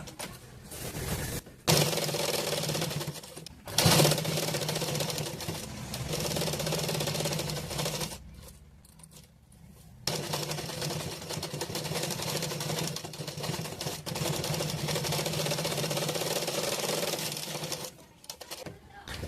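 A sewing machine stitching the border of a blouse runs in long steady bursts with brief pauses, loud and close, with a voice in the background.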